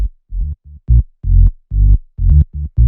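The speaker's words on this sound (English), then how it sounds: "It's just a square wave going into a low pass filter with a bit of resonance." A square wave bass line through a resonant low pass filter plays a bouncy sequence of short and sustained notes in deep minimal house, fat and round, alone with no other sounds.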